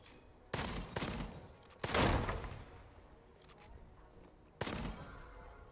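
Gunfire from a weapon in the first-person shooter Gunfire Reborn, arriving as three sharp bursts spaced a few seconds apart, each with a short rolling tail, over a low game background.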